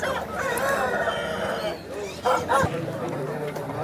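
A rooster crows at a busy poultry market in Vijayawada, loud and close amid clucking fowl and a barking dog, with people talking throughout.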